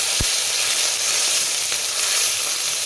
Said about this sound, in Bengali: আমি লঙ্কা বাটা দিলাম আদা বাটা জিরা ধনিয়া বাটা মশলাটা ভাজবো